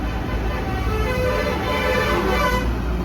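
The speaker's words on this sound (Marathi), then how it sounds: "काय हॉर्न मारतो तरी" A vehicle horn honks on a road in western India, heard from a truck as a steady, sustained tone over constant traffic and engine rumble.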